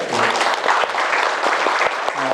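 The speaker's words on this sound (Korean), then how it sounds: "오늘 되게 박수 한번 주세요" Audience at a book concert talk event applauds, a steady dense burst of clapping that fills the room, close and loud throughout.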